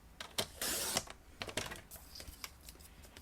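A sheet of cardstock trimmed on a paper trimmer for a fold card: clicks of the trimmer, then a short rasping slide of the blade across the paper, followed by lighter taps and handling noises up close.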